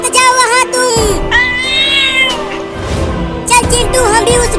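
Cartoon cat meowing in a Hindi ghost cartoon, several drawn-out, pitch-bending meows mixed with music and voices throughout.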